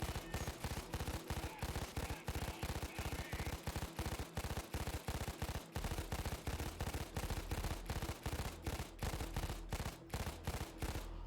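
Rapid, rhythmic bursts from a silenced light machine gun in the shooter game Payday 2, a close, evenly spaced stream of sharp muffled shots running continuously with only brief gaps between strings of fire.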